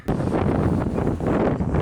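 Strong gusting wind near a volcano crater buffets the microphone in loud, roaring bursts, constant and close, with no voices.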